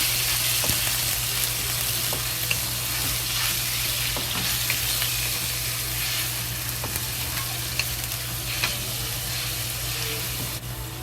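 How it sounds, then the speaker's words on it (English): Lamb sizzles and crackles loudly while stir-frying with scallions in a hot wok, with scattered clicks of stirring over a steady frying hiss. "when the scallion start frying, we add the lamb into it"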